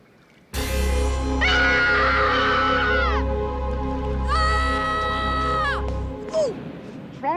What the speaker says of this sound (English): What are you screaming about?